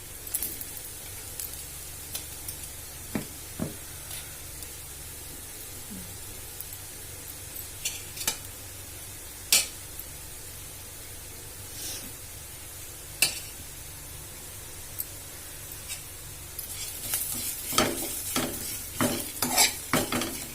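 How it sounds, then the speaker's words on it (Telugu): Fried bitter gourd stirred in a pan with ground dry spice powder containing dried red chilli, a soft background sizzle under repeated scraping and clinking strokes of a spoon against the pan, growing busier toward the end. "దీంట్లోకి ఇప్పుడు పొడి వేస్తున్నాను."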